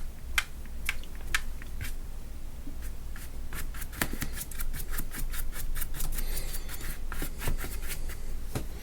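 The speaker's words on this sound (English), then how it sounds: "Do some more spattering" Watercolor paint spattered onto paper, a series of sharp little taps and flicks at an irregular rhythm, fairly quiet and close, with faint rustling between them and no talking.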